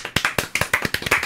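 A short burst of clapping, a quick series of sharp hand claps close by, uneven in rhythm, with no voices.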